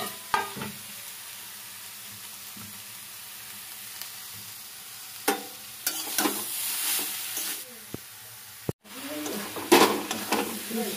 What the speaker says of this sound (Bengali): আমি এখন পাটিসাপটার জন্য পুর বানাবো